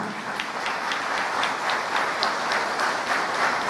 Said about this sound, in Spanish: Un fuerte aplauso para el personal docente.